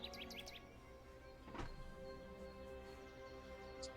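Short bird chirps played as a sound effect during a tabletop game session, several quick tweets at the start and one near the end, faint over a low background hum with a single louder thump in the middle.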